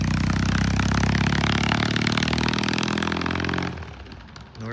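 A Norton motorcycle engine pulls hard in second gear on a street test ride, loud and close with a steady buzzing drone. It cuts off abruptly near the end, leaving rougher, fading mechanical noise.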